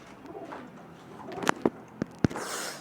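Pigeons coo softly against a quiet background, with a few sharp wing claps or taps near the end.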